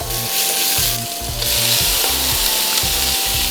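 Bacon lardons and leeks cooking in a pan give off a loud, continuous sizzle and crackle, with stirring scrapes rising and falling and no talk over it.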